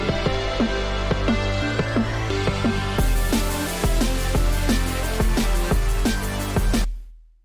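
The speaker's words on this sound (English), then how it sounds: "just put a filter on and then automate it" A drum and bass loop built in Ableton with a sharp filter automated on the drums. For three seconds the high end is cut, then it switches fully open, driving steady punchy beats until a quick fade at the end.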